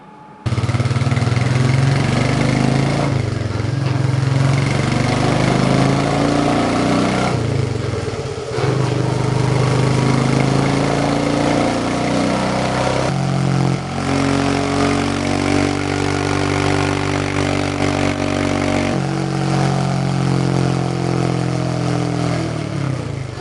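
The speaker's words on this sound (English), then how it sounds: "going to run it up to maximum speed on the in-house dyno to find out where that electronic speed limiter comes into play" A Royal Enfield Meteor 350 motorcycle runs up toward top speed on a dyno, its engine droning loud and steady for the whole stretch, with pitch shifts as it climbs through the gears and brief dips between them.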